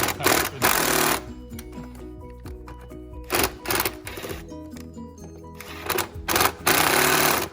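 An impact power tool rattles in loud bursts as it removes the front bumper bolts on a Nissan GTR. Several sharp, chattering runs of about a second each are separated by short quiet gaps, up close, with no talking.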